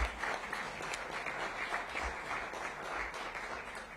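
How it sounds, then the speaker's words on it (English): Audience applause at a mayoral launch event for a 2024 summer youth employment program, a steady, dense wash of many hands clapping at moderate distance that holds evenly for the whole stretch, with no one speaking over it. "give them a round of applause"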